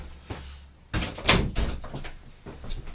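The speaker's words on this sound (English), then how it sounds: "I just need to close the door of my office" An office door closes with a solid thud and a brief rattle of the latch, close and fairly loud, followed by faint handling sounds.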